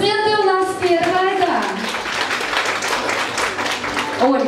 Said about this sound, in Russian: Аплодисменты у нас первые.